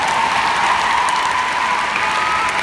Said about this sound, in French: puis on les applaudit, les mecs.